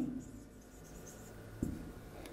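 Faint scratching of words being written on a classroom board, with a soft background hum and one brief tap near the end.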